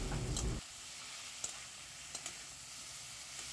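Tomato with ginger-chili paste frying in a pan while being stirred, a loud opening scrape then steady soft sizzling with occasional light clicks of the utensil.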